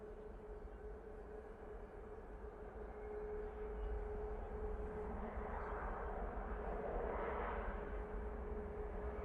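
A Qatar Airways airliner at Manchester Airport makes a low, distant engine rumble that swells slightly partway through and then holds steady, with a faint constant hum running underneath.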